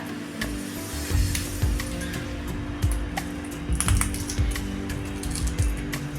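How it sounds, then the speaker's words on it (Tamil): Crispy deep-fried button thattai snacks snapped by hand, a string of short sharp crunchy cracks spread irregularly over a few seconds, close and fairly loud with no talk. "பட்டன் தட்டை ரெடி ஆயிடுச்சு நான் உடச்சி காட்டுறேன் பாருங்கள்"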